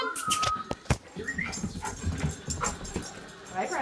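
A dog whimpers and pants in short bursts close by, with a cat in the same room and people talking and calling out loudly over it.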